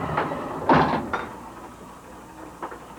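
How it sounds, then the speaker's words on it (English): The firebox door of a steam locomotive shuts with a brief metallic clank, followed by a couple of fainter knocks and latch sounds against a low background rumble. "We'll close the door now."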